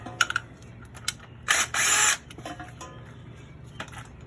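A small handheld drill backs bolts out of a 2004 Acura RSX, with short clicks and taps and then two loud whirring bursts close by, followed by more light metallic handling noises.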